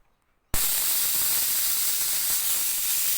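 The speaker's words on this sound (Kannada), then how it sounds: "ವಿಜಲ್ ಬಂದಿದೆ" A pressure cooker cooking fresh green peas suddenly lets go of its whistle after a moment of silence, releasing a loud, sustained rush of hissing steam that stays strong and steady to the end.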